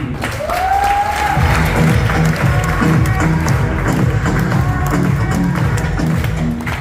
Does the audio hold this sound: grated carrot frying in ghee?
no